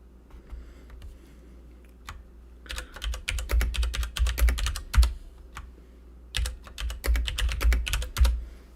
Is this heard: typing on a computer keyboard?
yes